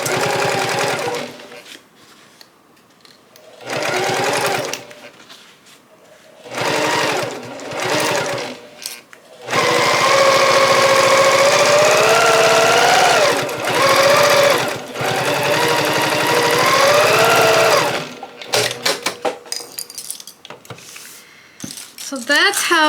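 A sewing machine stitches a half-inch seam on a shoulder bag in several separate bursts. The motor whirs steadily and its pitch rises and falls, with brief pauses and handling rustles between the runs.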